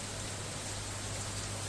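Steady rain falling in Bengaluru, a continuous even hiss of moderate loudness with no voices, lasting under two seconds.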